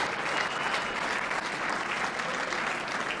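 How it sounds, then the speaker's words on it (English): Sustained audience applause at a Mardi Gras spirit gala, a dense, steady wash of clapping from a large crowd filling the room without a break. "give Dave a nice round of applause"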